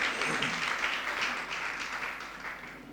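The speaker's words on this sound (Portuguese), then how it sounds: "Podemos dar uma salva de palmas para a palavra de Deus." A church congregation gives a round of applause that starts full and gradually thins out, a soft, even patter of many hands heard from a short distance.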